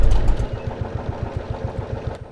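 Tractor engine idling in Farm Mechanic Simulator, a steady low chugging rumble with a fast regular pulse, loud and close, heard on its own.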